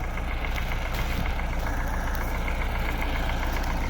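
A YUMZ tractor engine idles steadily in the field during ploughing season, a constant close rumble with a faint knocking texture running without a break.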